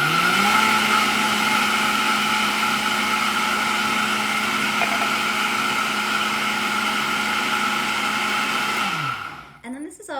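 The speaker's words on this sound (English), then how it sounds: "So I'm gonna put this guy in the blender." A blender whirs loud and steady for about nine seconds while blending red velvet chia pudding, its motor pitch holding constant before it winds down and stops.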